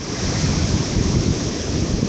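Ocean waves washing over rocks along a beach, a steady, loud roar of rushing surf with wind buffeting the microphone throughout, no voices.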